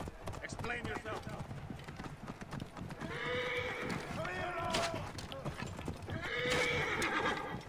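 A horse in the video game Assassin's Creed Origins whinnies twice over clip-clopping hooves, with talking in the background throughout.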